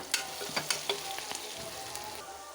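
Bottle gourd pieces with turmeric sizzle in a pan, a soft steady fry broken by a few sharp scraping stirs near the start.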